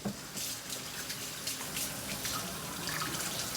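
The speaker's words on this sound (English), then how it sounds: "Wash my hands again." Hands being washed under a running kitchen tap, a steady close rush of water with small splashes and shifts as the hands move through the stream.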